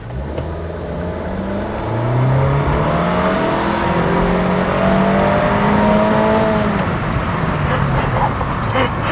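Honda Jazz Life, Suzuki Swift RS and Mazda 2 GSX hatchbacks drag racing, their engines revving hard and climbing steadily in pitch, growing louder after a short launch and holding a loud, strained drone.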